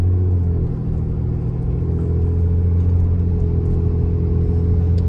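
A car cruising at low RPM produces a steady, heavy engine rumble and drone from inside the cabin, deep and even with no sharp revving, and no one speaking.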